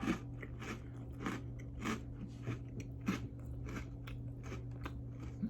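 Close, crisp crunching and biting of a chocolate caramel crunch cereal, with repeated bites every half second or so over a steady low background hum, and no talking.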